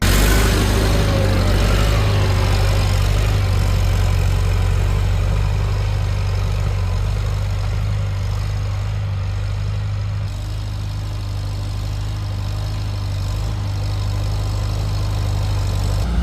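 A tractor engine runs in second gear at about 75% throttle while plowing a field, a loud, steady low drone with a constant mechanical hum that holds evenly throughout.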